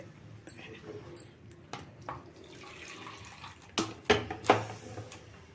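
Water poured into a pot of cooking moong dal with tomatoes and vegetables, a few short splashing gurgles near the end after quiet kitchen clatter.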